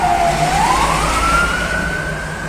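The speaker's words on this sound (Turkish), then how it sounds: "Ya ambulansa bak ya." A loud ambulance siren wails close by, its pitch sliding upward in a long rising sweep over rumbling traffic noise, heard from a hotel construction site.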